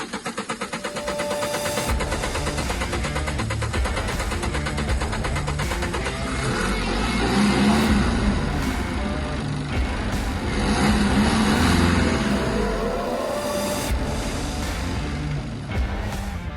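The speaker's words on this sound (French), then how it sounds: "j'ai eu un peu de peine à le faire démarrer, comme je vous ai dit, j'ai vidé le filtre à gasoil, c'était le temps qu'il se réamorce" The diesel engine of a 2019 Peugeot Boxer van starts after its fuel filter was drained, then settles into a loud, steady idle with a clattering rhythm that surges briefly twice as it re-primes.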